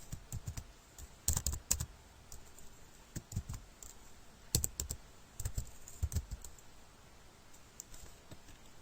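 Keys clacking on a computer keyboard while HTML code for a dropdown menu is entered, irregular bursts of close, crisp taps with short pauses between runs.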